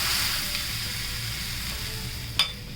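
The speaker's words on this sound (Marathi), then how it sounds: "असा चुर्र आवाज आला पाहिजे चांगला" Hot oil tempering with asafoetida poured over chopped onion for a spicy Sinhagad-style onion chutney, giving a steady, close, loud sizzle throughout with a brief sharper crackle near the end and no talking.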